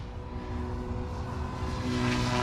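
An OMP Hobby M4 or Goosky RS4 RC helicopter motor runs at high head speed, giving a steady, loud whine and rotor drone that holds constant throughout with no talk.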